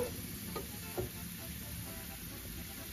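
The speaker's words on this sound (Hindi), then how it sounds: "तो लहसुन जो है हमारा ब्राउन हो रहा है, थोड़ा सा मैं इसको हिलाऊंगी।" Quiet, steady sizzling of garlic browning in a pan, with a couple of faint scraping clicks from stirring near the start.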